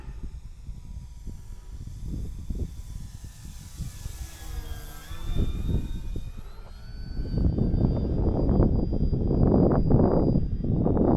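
An electric OMP Decathlon RC model airplane on a 3-cell 3300 battery flying overhead, its motor whine rising and falling in pitch as it passes, with wind buffeting growing louder toward the end.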